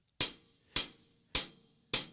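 Four crisp, tight closed hi-hat hits struck with drumsticks at an even pace, each short and bright with a quick decay, no voices.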